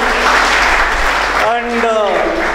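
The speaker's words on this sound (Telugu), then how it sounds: "deserves a big round of applause" Audience applause at a foundation event, a dense wash of clapping that continues beneath a speaker's voice partway through.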